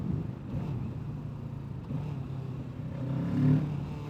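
A sport motorcycle with its stock exhaust revs in a low, grunty drone, holding a steady engine note before swelling briefly louder near the end.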